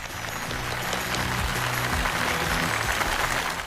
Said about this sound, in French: Applaudissez encore bien fort Monsieur Duan.